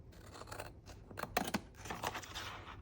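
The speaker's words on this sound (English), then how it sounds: "Gotta get your big scissors for this." Big scissors cut through cardstock for a s'mores cupcake box in a series of crisp, close snips and crunching slices, quiet and fairly rapid, with no talking.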